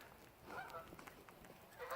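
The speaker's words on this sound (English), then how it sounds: "Geese!" A flock of geese honking at a distance, overlapping calls over steady outdoor background noise.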